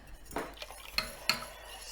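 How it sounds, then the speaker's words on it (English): A spoon stirs warm milk into yogurt in a bowl, giving a few light clinks and scrapes of metal against the dish, close and quiet, with no talking. "slowly mix in the warm milk into the yogurt"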